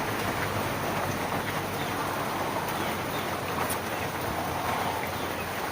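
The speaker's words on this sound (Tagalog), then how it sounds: "May ulan na naman." Steady rain falls with a wind-blown hiss that holds at an even level from start to finish, with no voices and only faint scattered patters and drips within the dense wash.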